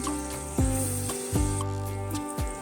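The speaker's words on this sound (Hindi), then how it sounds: "देखिए हमारी कालामारी अच्छे से फ्राई हो गई।" Calamari frying in hot oil gives off a close, steady sizzle, with a few short bursts of louder crackle over about two and a half seconds and no talk.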